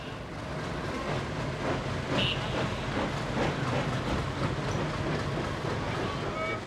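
A mail train from Delhi to Kalka rumbles steadily along the tracks with a continuous low roar and faint rhythmic clatter, heard from inside or close by.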